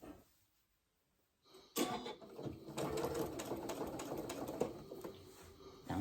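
A sewing machine stitches a shirt hem along a seam edge. After a brief quiet start, it runs as a steady, fast mechanical whir with rapid needle clatter, close and moderately quiet.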